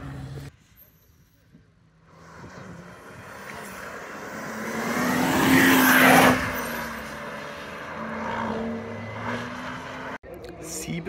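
An all-wheel-drive BMW race car launches hard at a slalom event, its engine note swelling to a loud, close roar and then holding a steady drone as it pulls away, with a sharp cut near the end.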